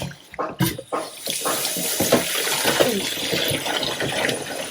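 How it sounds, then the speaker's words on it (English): White shirt fabric being rinsed under running water before dyeing, a close splashing gush from a tap that swells and sloshes, with a few handling knocks at the start. "So give it a little rinse."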